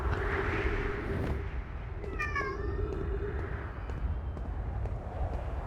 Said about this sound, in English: I know, you're a baby kitty cat